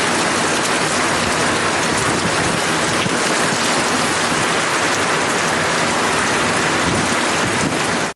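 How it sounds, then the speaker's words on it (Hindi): Heavy stormy rain pours steadily in Lahore, a dense, loud, continuous wash of water drumming on surfaces with no voices. "लाहौर और अतराफ के शहरों में तेज और तूफानी बारिश।"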